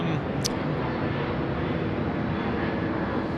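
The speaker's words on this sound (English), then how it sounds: "the Qantas A330 getting off there" A Qantas Airbus A330 jet takes off at night from Sydney Airport, its engines a broad, steady distant roar heard briefly under a voice talking.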